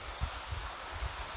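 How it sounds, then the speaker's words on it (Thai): Steady rain with gusting wind sweeps over a small open pavilion on an evening with no letup, a dense even wash of drops broken by a few low rumbling gusts. "ก็บรรยากาศโอ้ยฝนโอ้ยลมสาดมาเย็นครับผม"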